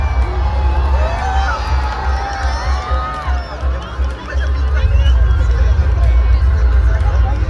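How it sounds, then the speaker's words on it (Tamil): A large outdoor crowd at a drone show in Bandar, Brunei, cheers and murmurs steadily, with voices and children shouting mixed into a loud, continuous roar. "மக்கள் கிட்ட ஒரே கரகோஷம் தான்"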